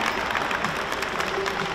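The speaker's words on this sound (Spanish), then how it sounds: "Muy bien, un aplauso para todos ustedes." Brief burst of applause from a group of newly sworn-in volunteers joining a vaccination plan, a short run of close, busy clapping.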